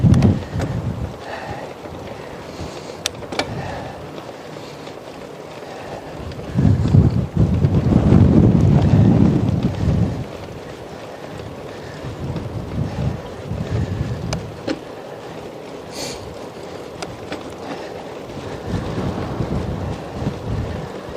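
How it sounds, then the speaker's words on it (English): Strong wind buffets the microphone in low, roaring gusts, swelling to a loud surge midway before easing back to a steady blustery rumble. "it's still windy"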